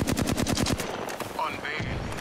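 Rapid machine-gun style gunfire aimed at the player in a video game, a fast burst of about a dozen loud evenly spaced shots at the start, then fading into softer game effects.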